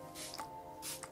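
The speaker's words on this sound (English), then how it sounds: "I'm going to give myself a spray of Fix Plus" Two short hissing bursts of Fix Plus setting spray misted onto a face, close and fairly soft, a brief pause between them.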